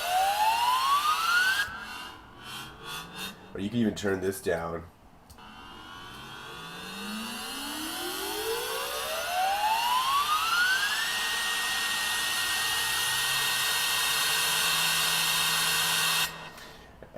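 Native Instruments Massive synth build: one held note while a macro is brought in, its pitch sweeping steadily upward into a bright, loud, rising tone. Someone speaks briefly near the start.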